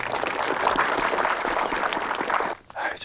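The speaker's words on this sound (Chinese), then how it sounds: "好，那咱掌声欢送一下郭老师。" An audience claps steadily to see off a guest lecturer after a talk, a continuous crowd of hands that runs for most of the clip and then cuts off near the end.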